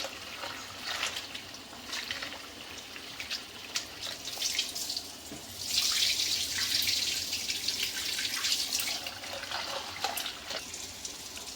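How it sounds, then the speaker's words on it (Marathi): Tap water runs steadily into a vessel while sago pearls are washed in a home kitchen, a soft continuous splashing that swells a little midway, fairly quiet and with no voices. "आता साबुदाणा धुवून झालाय."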